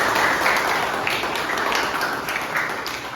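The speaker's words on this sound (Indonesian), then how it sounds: "Baik, kita beri tepuk tangan untuk kelompok Santa Teresia Lisieux." A classroom group claps for the Santa Teresia Lisieux team, a moderate steady round of applause that tapers slightly over a few seconds.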